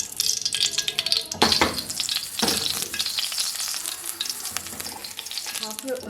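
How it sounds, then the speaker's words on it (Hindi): Cumin seeds fry in half a cup of cooking oil while preparing qeema matar, a steady close sizzle with scraping stir bursts throughout, no voices. "अब 1 टीस्पून सफ़ेद ज़ीरा मैंने हल्का सा फ्राई कर लिया"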